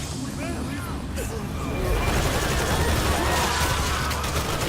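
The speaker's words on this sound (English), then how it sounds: "And there's the gunfire." Rapid gunfire in the opening of the video game Metal Gear Solid V: The Phantom Pain builds up midway and continues as a dense rattle, with voices talking over the noisy, chaotic background.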